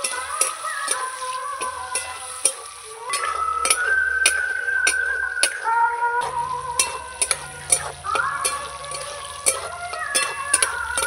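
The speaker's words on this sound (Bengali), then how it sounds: "টমেটোটা দিয়ে আমি আর একটু ভেজে নেব।" Tomatoes sizzle and fry in a pan for a festive Bengali Shashthi lunch, with a steady crackle broken by repeated metallic clinks and scrapes of a spoon stirring against the pan.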